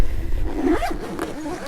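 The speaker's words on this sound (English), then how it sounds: "So you could, you know, zip this up here." A zipper being drawn closed along a DJ controller bag, a short rasping pull close by, with a faint voice in the background.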